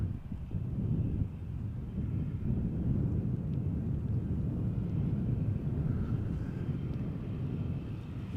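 Aircraft passing low over snowy Amsterdam Schiphol Airport near the de-icing area, a steady broad engine roar blended with wind noise that holds at an even level throughout.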